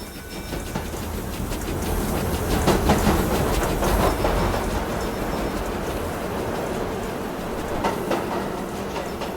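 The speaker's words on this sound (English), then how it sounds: "I'm just gonna have the train move up a little bit" A train rolls along in the Roblox game Jailbreak with a steady rumbling, rattling clatter that swells and eases slightly over several seconds, continuous and fairly loud with no talk.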